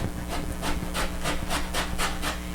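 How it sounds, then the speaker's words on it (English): Steady back-and-forth rasping of citrus zest being grated for a cheesecake, about eight even strokes close up, each scrape bright and gritty with no voices. "I'm going to grate with that."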